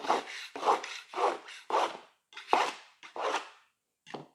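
Wood veneer edge banding is trimmed along the grain with a series of about eight rasping strokes in steady rhythm, close and loud, without talk.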